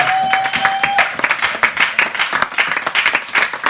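A congregation claps and applauds during a church worship service, a dense, steady wash of hand claps lasting several seconds, loud and close, with a brief sung note at the start.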